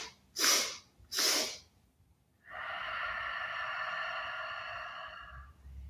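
Two big, sharp sniffs through the nose during a kids' yoga class, evenly spaced and close, followed by a long sustained voiced tone.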